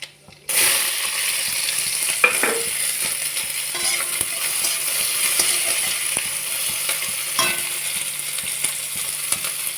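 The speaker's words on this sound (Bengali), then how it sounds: "তেল গরম হয়ে গেছে, কালো জিরে দিয়ে দিলাম আর পেঁয়াজটাও দিয়ে দিলাম।" Onion and black cumin seeds hit hot oil for a carrot and potato fry, setting off a loud, steady sizzle that runs throughout, with a few brief clinks and stirs of a utensil in the pan.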